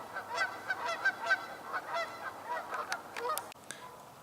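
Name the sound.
ravens calling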